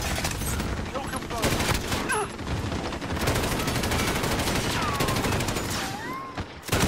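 Rapid bursts of gunfire in Call of Duty on the Shipment map, dense and continuous shots with sharp transients throughout, with faint voice fragments mixed in.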